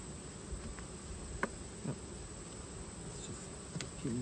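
Honey bees from a swarm colony buzzing during a hive inspection, a soft steady hum with a few louder passes of individual bees near the microphone.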